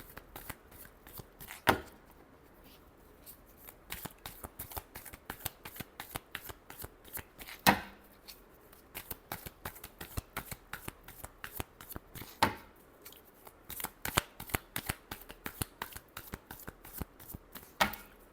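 A deck of tarot cards is shuffled repeatedly by hand, with dense rapid riffling clicks in steady bursts and a few louder snaps as the cards are squared, close and clear with no voices.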